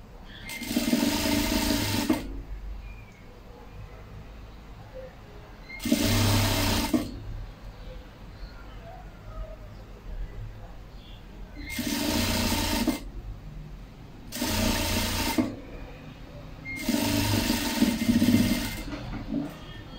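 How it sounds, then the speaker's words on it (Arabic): An overlock serger stitches the seams of a hooded cape in five loud, close bursts of rapid mechanical whirring, each lasting a second or two, separated by quiet pauses with faint handling noise. "غادي ندوزو السورجي، نديرو السورجي"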